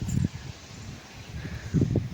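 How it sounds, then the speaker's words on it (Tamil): Strong wind blows outdoors around a house in gusts. Two low rumbling buffets hit the microphone with a quieter stretch between them. "இந்த மாதிரி காற்று நம்ம பார்த்ததே இல்லை."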